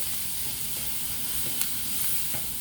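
Chopped vegetables frying with bacon in a hot pan, a steady close sizzle and hiss with a few faint clicks of stirring, no voices.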